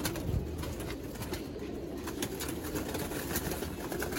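Pigeons kept at a home loft coo softly and continuously, a low faint murmur set against quiet background noise, with occasional small clicks and rustles.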